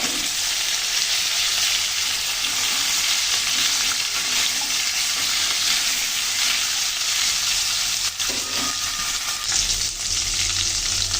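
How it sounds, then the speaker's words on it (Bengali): Dry bay leaf, dried red chili, cumin and taro root fry in hot oil, making a loud, continuous crackling sizzle from start to finish, with a brief stirring scrape near the end. "ফোড়নে দিয়ে দিচ্ছি একটা শুকনো তেজপাতা, আর দিচ্ছি শুকনো লঙ্কা, জিরা। দিয়ে দিচ্ছি কচুরমুখী।"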